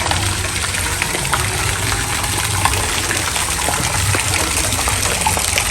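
Water gushes loudly and continuously at Pinjore Garden, a dense roaring rush that never lets up, with a low rumble underneath.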